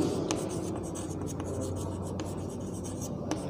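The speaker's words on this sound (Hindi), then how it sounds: "यहाँ लिख सकते हैं" Chalk or marker scratches and taps steadily on a board during a physics lecture, with short rhythmic strokes heard up close against a low room hum.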